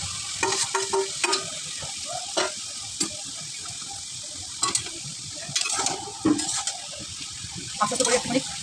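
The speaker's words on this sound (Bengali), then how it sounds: "আস্তে আস্তে করে একটুখানি মাংসটা নাড়তে হবে এইভাবে।" Marinated meat sizzles in hot oil in a pan while it is slowly stirred, with intermittent scraping and clattering strokes over a constant frying hiss, heard up close.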